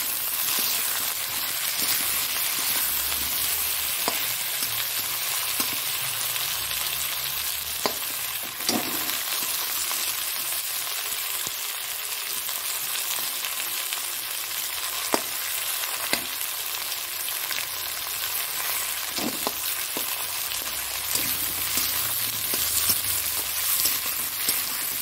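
Tomato sizzling and frying in a pan for Bengali fish curry (macher jhol), a steady hiss throughout with occasional stirring clinks of a spatula, no talking.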